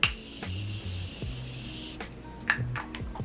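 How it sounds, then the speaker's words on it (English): Morphe setting spray is misted in one steady hiss lasting about two seconds, followed by a few quick shorter spritzes and soft handling noise, close and fairly quiet. "So I'm going to take the Morphe setting spray one more time."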